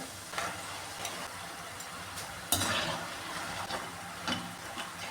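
Diamond cuts of dough frying in oil are stirred now and then, a steady sizzling hiss close by with occasional scraping knocks from the spoon.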